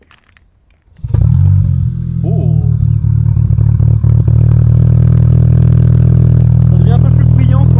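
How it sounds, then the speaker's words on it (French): An Audi A3 S line engine cranks and catches, then settles into a steady, loud idle that holds throughout, with a brief exclamation from someone nearby. "Ça devient un peu plus bruyant quand le moteur est stabilisé."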